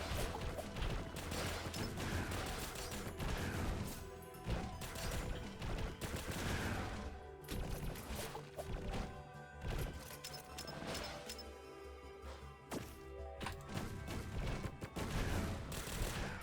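Bombs lobbed and bursting in Risk of Rain Returns: a dense, continuous barrage of loud blasts and crashing impacts over layered game music and effects, with no letup.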